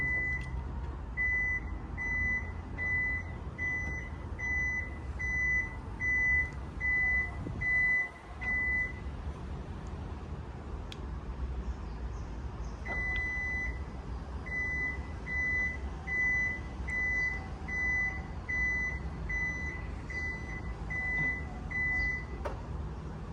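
A 2020 Toyota Vellfire 2.5Z's power trunk, opened from the key fob, emits two long runs of regular, evenly spaced electronic beeps separated by a short pause, over a soft background hum.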